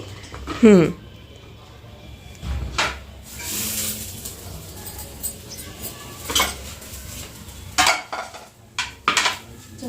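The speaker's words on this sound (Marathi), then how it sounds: "आता हा दुसऱ्या तव्यावरती राहुल दादाचा ठेवते मी." Metal pans clatter and clank on a griddle while pizza cooks, in several sharp bursts, with cutlery scrapes and people talking in between.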